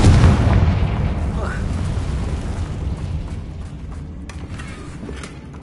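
A Confringo fire spell explodes in Hogwarts Legacy, a loud blast up front that rolls into a long rumbling, crackling decay, with a voice briefly under the boom.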